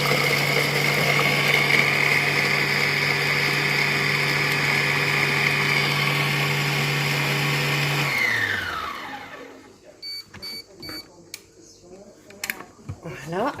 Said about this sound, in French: j'ai mis mon oignon et mes 2 gousses d'ail et je vais donc hacher